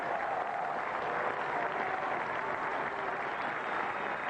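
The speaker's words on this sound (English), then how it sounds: "A lot of applause." Cricket crowd at an England versus Pakistan Test match applauding a returning batsman, a broad, steady wash of distant clapping from the stands with no break.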